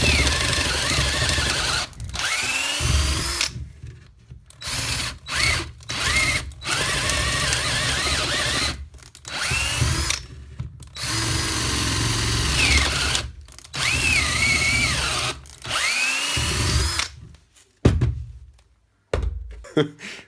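A Tacklife 18V PCD04C cordless hammer drill bores into a piece of fir wood: loud, close whining bursts that rise and fall in pitch, broken by short silent gaps and clunks as the trigger is released and the bit is repositioned.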